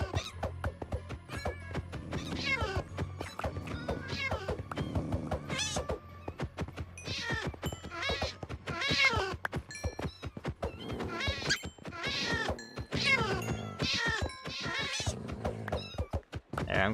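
Several Minecraft cats meowing over and over, overlapping mews and drawn-out cries that keep coming close and loud through the whole stretch, with no talk.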